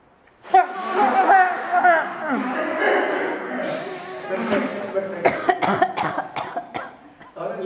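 An audience at a live performance blows noses into handkerchiefs together, a loud burst of overlapping snorts, sniffs and coughs that thins into scattered individual blasts.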